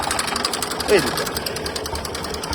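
A 44-year-old IMT 533 Ferguson tractor stuck in mud, its engine chugging in a rapid, even knock close by while someone talks over it.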